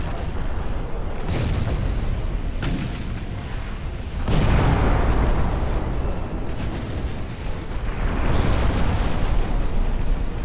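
Torpedo hits and naval explosions in the warship game Ultimate Admiral: Dreadnoughts with 1890-era hulls, several heavy booms rising out of a constant roaring wash of battle noise, loud and close.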